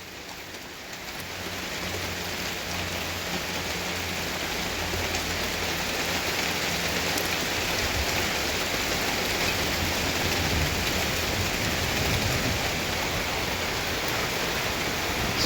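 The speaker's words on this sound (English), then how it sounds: "Now it's raining, snowing, and there's lightning and thunder with freezing rain." Heavy rain mixed with freezing rain and sleet falls in a dense, steady roar of hissing drops, growing slightly louder and staying constant throughout.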